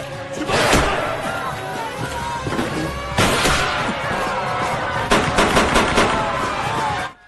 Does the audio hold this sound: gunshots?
yes